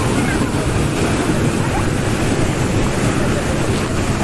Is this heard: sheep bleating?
no